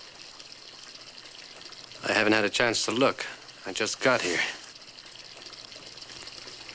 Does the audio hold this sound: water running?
yes